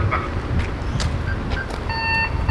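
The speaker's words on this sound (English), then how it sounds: "that is our external alarm" The external alarm of an AI collision avoidance system on a machine sounds a series of short electronic beeps and tones over a steady rumble of machinery, with a sustained multi-tone chime near the end.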